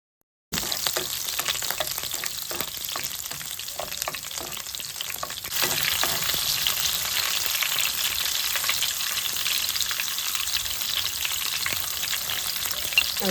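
Chopped garlic and green chillies sauté in hot oil for a prawn and irumbanpuli pickle: after a brief silence a steady close sizzle starts and grows a little louder partway through, with faint stirring scrapes and no speech.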